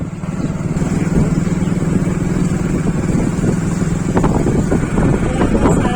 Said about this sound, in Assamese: বাইক চলাই গৈ আছে আমাৰ দুজনী